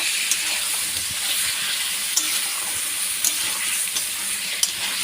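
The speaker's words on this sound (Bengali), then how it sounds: "এটা হবে এখন করলা ভাজা" Bitter gourd fries in a pan with a continuous bright sizzle and hiss, broken by a few faint stirring clicks, close and steady, with no voices.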